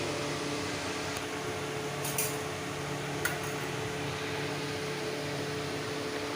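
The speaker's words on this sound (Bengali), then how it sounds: "আমার এক্সস্ট ফ্যানটা চলছে" A kitchen exhaust fan runs in a home kitchen while a pan heats for cooking pumpkin greens, giving a steady, even whir throughout with a couple of faint clicks partway through.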